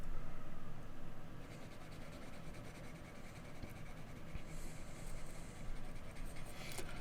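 A graphite pencil, 2B over 2H or 4H, burnishing on paper while shading grass and ground texture, makes a faint, continuous close scratching and rubbing with no talk.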